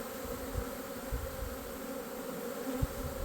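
Honey bees hum in a dense, steady drone around strong hive-and-a-half colonies in a California almond orchard, a continuous close buzz with no talking.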